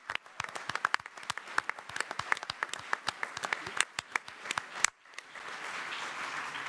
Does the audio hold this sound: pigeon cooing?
no